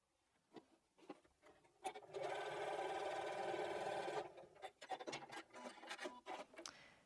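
A sewing machine stitches strips of scrap fabric into quilt binding, running in a steady whirring burst of about two seconds. Short rustles and taps of the fabric being handled come before and after the run.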